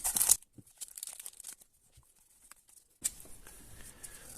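A Pokémon Silver Tempest booster pack with loose foil wrapping is torn open by hand: a sharp, close rip at the start, then rustling, crinkling foil handled throughout, with no voices.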